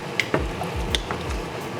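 Korean garaetteok rice cakes nudged in a pot of water, giving a few soft wet squishes and gentle bubbling thumps, close and without talk.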